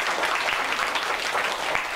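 An audience claps at a scholarship certificate ceremony in a Buddhist temple hall, dense, even applause from many hands, close and sustained for a couple of seconds.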